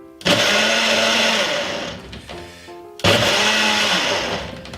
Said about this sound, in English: It's in the blender.